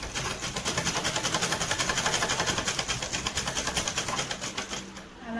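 A sewing machine stitches frills onto a puffy boutique-style birthday frock, running in a steady, rapid mechanical rhythm close by for about five seconds before briefly slowing near the end.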